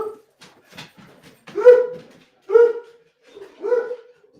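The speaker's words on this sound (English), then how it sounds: "Some other dogs are barking in the neighborhood." Dogs barking out in a residential neighborhood, a few loud yelping barks in separate bursts with whimpery tones between, fairly close and with no talk over them.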